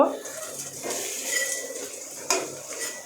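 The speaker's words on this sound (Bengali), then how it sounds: "আমি পকোড়ার এক পাশ উল্টিয়ে দেব" Potato pakoras being turned over in a frying pan, with clinks of utensil against the pan and a couple of sharper clatters over a faint background hiss.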